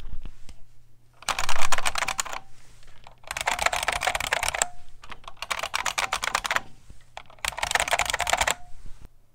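Crisp keystrokes from a Unicomp New Model M keyboard arrive in four rapid bursts of typing separated by short silences, close and clear with no talking.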